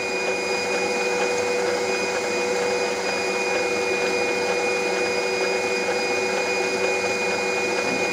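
An electric hand mixer beats cookie dough with baking powder in a bowl, giving a steady, loud motor whine and rough churning that holds unbroken from start to end with no voices.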